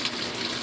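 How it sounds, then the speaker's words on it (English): Laundry detergent pours into a washing machine as a short, steady liquid gush, close and continuous with no talk. "I just pour in the soap"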